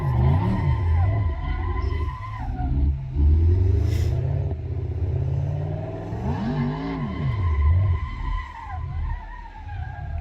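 Cars in the Assetto Corsa racing game skid, spin out and wreck against a guardrail, with sustained engine drone and whining tire squeals sweeping up and down, loud and continuous throughout.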